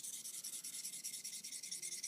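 Knife edge drawn back and forth with light pressure across an oiled stone on a KME free-hand sharpening system, giving a steady, close rhythmic rasping of even repeated strokes, alone.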